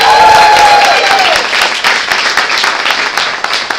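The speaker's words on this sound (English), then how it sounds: "as I say these names, I want you to cheer out loud" An audience at a women's health evening bursts into loud applause and cheering for a named guest, a whoop rising over dense clapping at the start before settling into steady, slightly thinning claps.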